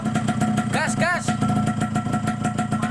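A Yamaha RX-King two-stroke motorcycle engine with a Thai YP2 block and ported cylinder runs at a steady idle just after assembly, and two short revving blips rise and fall early on. The engine sits close and loud.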